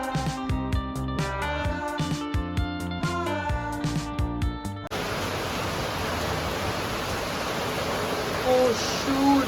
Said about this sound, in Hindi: बिकॉज बहुत बारिश हो रही है।